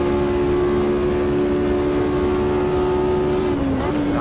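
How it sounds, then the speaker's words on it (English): V8 engine of a P3 race car in Automobilista 2, a loud steady high-revving drone held flat out down a straight, then a brief dip and shift in pitch near the end as the revs change. "the V8 engine just absolutely fires you down the hanger straight"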